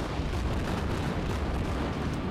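Battleship guns in the naval combat game World of Warships let loose a heavy, rumbling barrage, a dense continuous roar of booming fire that stays loud and close throughout the short stretch, no speech.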